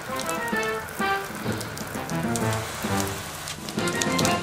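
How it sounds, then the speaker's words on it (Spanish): Steady rain falls during an outdoor weather report, with a dense, continuous patter at an even level and no voices heard. "Como se puede ver, está lloviendo."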